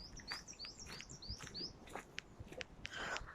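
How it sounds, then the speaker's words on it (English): Small birds singing in quiet woods, a series of quick repeated chirps and tweets, clear but fairly soft against light background noise. "I can actually hear the birds singing now."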